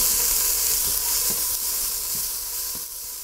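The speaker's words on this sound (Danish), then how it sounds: "nu skal vi bare lige have stegt lidt grøntsager bløde, lidt fennikel, lidt hvidløg, lidt finhakket skalotløg, lidt finhakket urter" Fennel, garlic, finely chopped shallots and herbs sizzle in oil in a pan, a loud, steady hiss that holds evenly throughout and fades slightly at the end.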